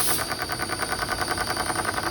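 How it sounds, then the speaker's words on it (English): Small homemade solenoid engine with a flywheel and loose linkage running steadily, giving a fast, even mechanical clatter with regular pulses throughout, close and fairly loud, no talking. "it makes for a real nice running engine"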